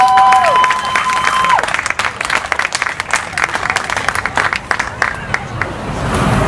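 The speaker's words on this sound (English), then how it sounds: "Let's give a huge round of applause for Mippy Valentine." An audience applauding and cheering a performer, Mippy Valentine, as dense clapping with crowd noise that carries on steadily and fairly loud throughout.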